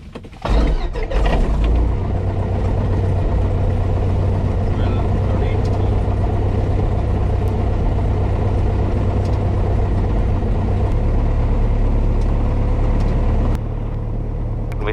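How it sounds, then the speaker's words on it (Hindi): A small training aircraft's propeller engine catches after a brief crank and settles into a loud, steady drone close by, running evenly until it drops slightly near the end. "Engine start."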